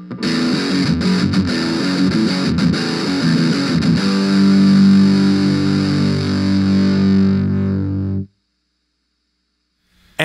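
Distorted electric guitar played through an Orange Crush 20 amp with the mids turned all the way off, a loud sustained chord ringing out with scratchy strums, then cut to silence near the end.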